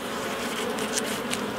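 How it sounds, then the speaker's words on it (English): A honey bee inside a beehive: a dense, steady buzzing hum, close and continuous, with a few brief louder rises in its wingbeat drone. "There's a bee in there, see, cleaning up."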